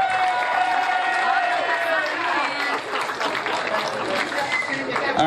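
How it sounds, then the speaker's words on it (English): Wedding reception guests applaud and cheer the newlyweds' entrance, a dense, steady crowd noise of clapping mixed with voices and chatter throughout. "a big round of applause for Mr. and Mrs. Joe and Linda Miksza!"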